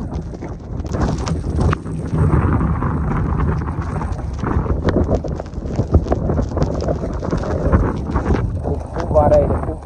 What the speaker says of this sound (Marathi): खूप वारा आहे, खूप वारा.